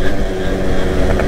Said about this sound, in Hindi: बाकी साउंड एक नंबर आ रही होगी आपको, परफेक्ट मॉडिफाई मफलर।